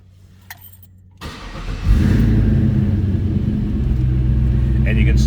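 A 1935 Ford Deluxe street rod with an LS2 engine cold-starts, cranking briefly before catching into a loud, steady near idle rumble that holds to the end, with a faint voice at the start.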